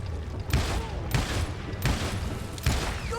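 Rapid gunfire in the western game Call of Juarez, a near-continuous volley of loud cracking shots with four sharper blasts standing out over dense background clatter.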